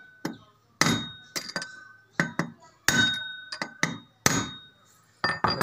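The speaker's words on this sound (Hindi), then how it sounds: "पहला आपां गरारी ठोक लेनी आ।" A gear is hammered onto a bicycle as a motor is fitted, with about a dozen sharp metallic blows at an uneven pace, some ringing with a glassy clink, close by and loud.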